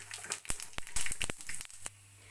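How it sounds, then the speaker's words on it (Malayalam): Mustard seeds splutter in hot oil in a pan, a quick burst of sharp pops and crackles over about two seconds before it settles into quiet. "കടുക് പൊട്ടി നമുക്ക്"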